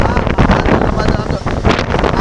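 Strong storm wind batters the microphone in loud, gusty bursts that come and go across the whole moment, in a village hit by heavy wind and rain. Someone speaks over the roar.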